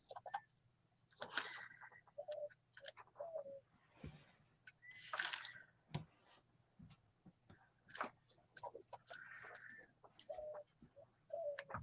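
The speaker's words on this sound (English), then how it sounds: "That is a mourning dove, yes." A mourning dove coos softly in repeated low phrases, moderately distant, with quiet gaps between calls and a steady faint hum underneath.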